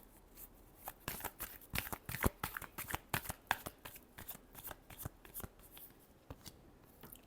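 Tarot cards being shuffled by hand, a steady run of quick riffling snaps and soft slaps up close, fairly loud and without any talk.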